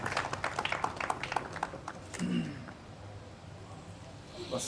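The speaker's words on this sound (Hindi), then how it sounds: "अज़हर फ़राग साहब तालियों से इस्तकबाल कीजिए" Audience at a poetry gathering clapping to welcome the poet Azhar Fragh, a quiet burst of scattered claps that fades within about two seconds, followed by low room murmur and movement.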